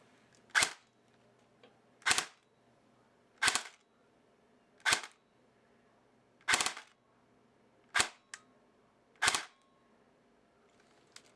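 A Valken airsoft battle rifle fires seven sharp single shots at roughly even intervals of about a second and a half, close and loud against a quiet background, with no talking.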